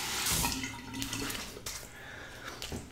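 Tap water runs steadily into a bathroom sink while a razor and face are rinsed after a wet shave, with splashing and shifting flow throughout, close and fairly loud with no talking.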